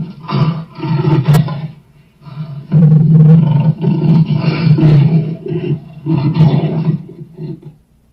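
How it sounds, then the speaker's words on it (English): A lion roars in loud, close bursts, about four heavy, throaty roars separated by short pauses, alone without talk. "It's a lion."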